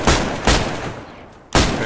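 Gunfire in a zombie video game: three loud, close blasts spaced roughly half a second to a second apart, each with a sharp broadband crack and a decaying tail, with no talk.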